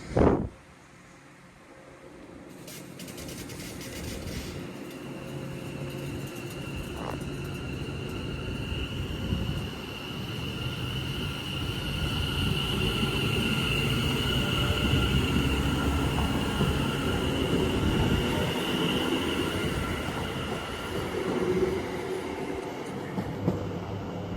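A six-coach train on the West Coast Main Line at Lichfield Trent Valley rolls steadily along the tracks, a continuous rumble with a faint high whine, building slightly and holding loud throughout with no talking.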